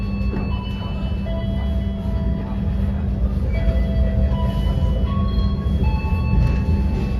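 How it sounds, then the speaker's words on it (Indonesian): KA Mutiara Selatan, an Indonesian passenger train, pulls out of Surabaya Gubeng station, heard from on board as a steady low rumble and hum with faint high squeals from the wheels throughout. "Kereta api Mutiara Selatan yang saya naiki sudah diberangkatkan tepat waktu dari stasiun Surabaya Gubeng pukul 18:20"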